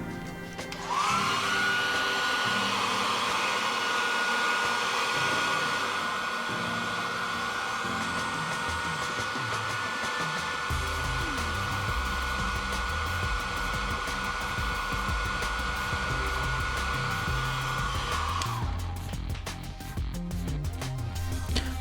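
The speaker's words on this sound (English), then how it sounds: "heat with a hairdryer and carefully peel the speaker from the iPhone case" Hairdryer blowing continuously at close range to heat the speaker adhesive inside an iPhone XS, a loud steady whine and rush that cuts off near the end.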